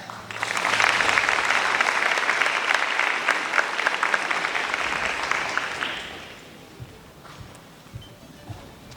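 A breakfast audience honoring a school district's Teacher of the Year breaks into loud, dense clapping that holds for several seconds, then fades to a few scattered claps and quiet room noise.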